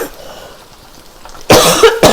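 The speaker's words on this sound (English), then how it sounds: "Now I'm coughing because I added the sambal by mistake." A couple of sharp, loud coughs burst out after a quiet stretch, close up, with a brief pause between them.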